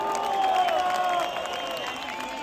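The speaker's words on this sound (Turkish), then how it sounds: "Alkışlar Yüksel Yıldırım için." Crowd applauding and cheering at a Samsunspor football championship celebration in Cumhuriyet Square, Samsun, a steady dense wash of clapping and voices with amplified speech over it.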